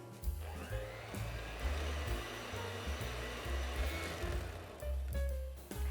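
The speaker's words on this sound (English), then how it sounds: "I'm going to mix this up together for a minute or two until the mixture is nice and soft and fluffy" An electric mixer whirs continuously while creaming butter and sugar for butterfly buns, a close, steady motor hum with slight surges and no talk.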